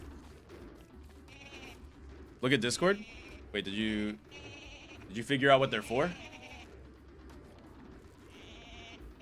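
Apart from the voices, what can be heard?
Volt Goat bleating in a video game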